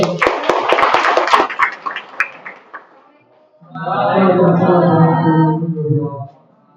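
An audience claps for a presenter at a Canva AI session, a short burst of scattered applause that fades away before a person starts speaking.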